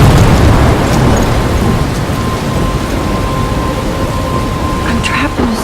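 Heavy rain and rumbling thunder from a storm in the game Life is Strange, a loud, steady wash of rainfall with a deep roll at the start, and no voices over it.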